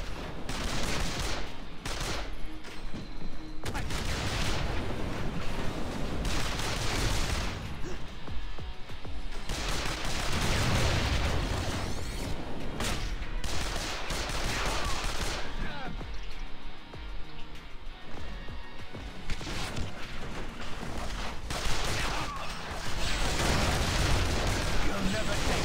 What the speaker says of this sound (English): Throwing those grenades and then rolling out and shooting.